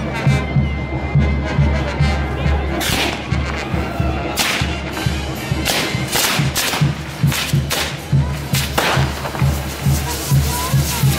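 Fireworks explode in quick succession during a street celebration of the Festival of the Dead in Cusco, Peru, a series of loud, close booms and cracks over a constant crowd murmur.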